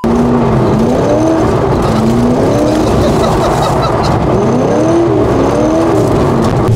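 Car driven calmly along a road, the engine droning loudly from inside with rising and falling pitch as it shifts and accelerates, steady road noise underneath.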